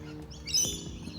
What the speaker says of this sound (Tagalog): Ay, pakaingay ng ibon.